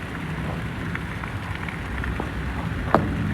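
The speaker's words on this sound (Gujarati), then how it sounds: "વરસાદ બીજી રીતનો પડે છે મિત્રો" Heavy rain pouring on a waterlogged farm field, a dense steady hiss of drops with scattered individual splashes and one sharper impact near the end, no voices.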